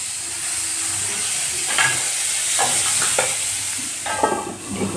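Small-cut potatoes with turmeric and salt sizzle and hiss steadily in a frying pan while a spatula stirs and scrapes them in several short strokes, close up and without talk.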